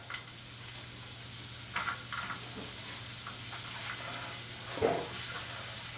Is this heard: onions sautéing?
yes